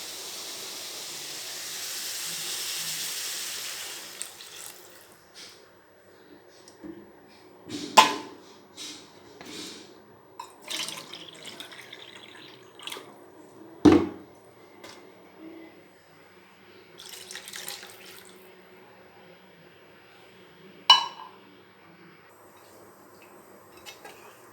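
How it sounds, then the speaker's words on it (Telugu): Water heats in a pot for beetroot biryani rice, giving a soft steady hiss of steam at first, then quiet stretches broken by occasional sharp clinks and knocks of kitchen utensils. "సో వాటర్ ఇలా బాయిల్ అవుతున్నప్పుడు"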